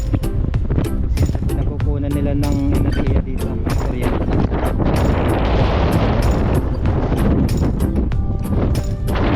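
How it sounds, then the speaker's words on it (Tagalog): Strong wind roars and buffets the microphone in a steady, loud rush, with broad noise filling the whole clip and occasional gusty surges. "dahil sa malakas yung hangin."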